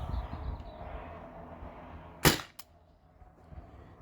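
T4E TR68 HPA-powered air gun firing a round ball shot: a single sharp, loud crack with a brief echo or second tap just after, over a low room hum.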